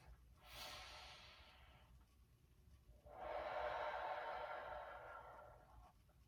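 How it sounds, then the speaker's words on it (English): Two slow deep breaths of diaphragmatic breathing, each a soft airy rush in through the nose followed by a longer, fuller exhale through the mouth, close and quiet against a faint background hum. "Diaphragmatic breathing, also known as inhaling deeply through the nose and out through the mouth."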